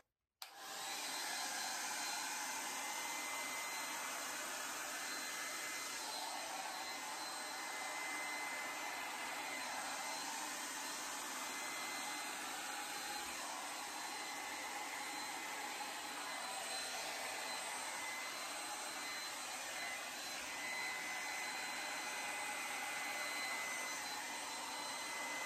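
An air blower roars steadily and loudly over acrylic pour paint, a continuous close rushing hiss of air with no talking.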